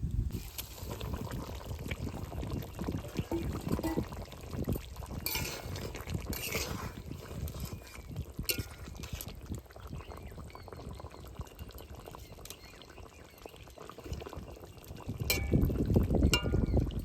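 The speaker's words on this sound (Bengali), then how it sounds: "এবার ভেজে রাখা মাছগুলো দিয়ে দেবো" Fried hilsa fish pieces go into a simmering eggplant curry, a faint bubbling of liquid with soft clinks of utensils and quiet splashes, swelling slightly louder near the end.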